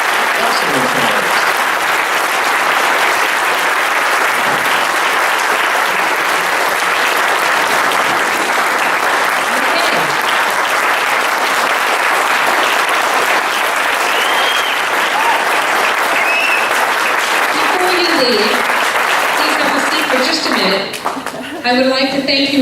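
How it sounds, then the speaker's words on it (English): Audience applause rings out at an evening candidate forum in Cameron Park, steady and sustained for over twenty seconds, filling the room before tapering off at the end, with voices faintly audible beneath it. "Let's have a round of applause for all three candidates."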